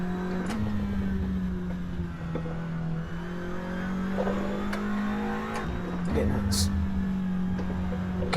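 A SEAT Leon TCR race car engine in Assetto Corsa drones loudly and continuously, dipping briefly on gear shifts and climbing back as it accelerates, with sharp clicks and bumps through the run.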